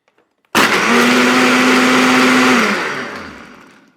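A blender pulses a loose, unfrozen Missionary's Downfall tiki cocktail in one loud, steady whir of about two seconds with a sharp start, then the motor winds down and fades out.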